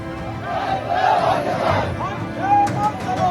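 Protesters in Canning, West Bengal, shout together at a street demonstration, a loud crowd roar with raised voices rising and falling, nearby and continuous.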